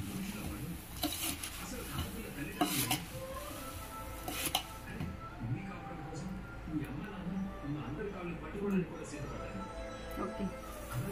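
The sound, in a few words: mixing attukulu (flattened rice) in a pot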